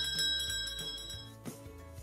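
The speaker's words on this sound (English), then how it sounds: "You shake a bell and it makes a sound like this." A bell rings with bright, sustained metallic tones, jingling a few times as it's shaken, then fading slightly; no talking.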